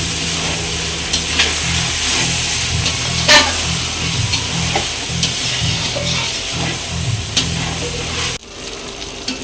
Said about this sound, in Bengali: আবারও ভালো করে কষিয়ে নেব পুরোপুরি যেন তেল ছেড়ে দেয় মাংস থেকে।